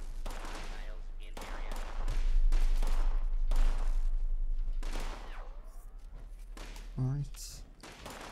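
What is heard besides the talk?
automated turret gunfire in Fallout 76 video game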